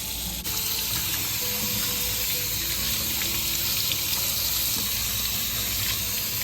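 Tap water runs steadily at a sink while fresh asparagus spears are rinsed for an asparagus pizza, a continuous broadband splashing rush with faint clatter beneath, fairly close and unbroken.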